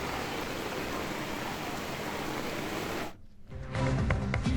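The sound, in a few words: heavy downpour in Shivamogga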